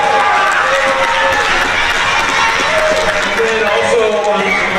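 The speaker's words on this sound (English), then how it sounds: "And give a round of applause for that." An audience at a 7th-8th grade school play gives a continuous, loud burst of applause, a dense wash of clapping from many hands with no break.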